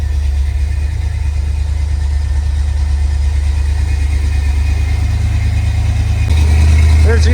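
An older truck's engine idles close by in a steady low rumble, rising slightly in a brief throttle blip near the end.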